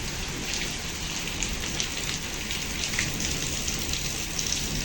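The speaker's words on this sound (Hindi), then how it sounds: "बारिश हो रही है ना बाहर" Steady, heavy rain falls outside in a constant hiss, with no voices and no break throughout.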